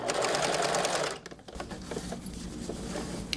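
Sewing machine stitching fabric while a sleeve is inserted into a bolero, a steady, close mechanical whir that runs for about a second, pauses briefly, then resumes with a lighter, busier rattle.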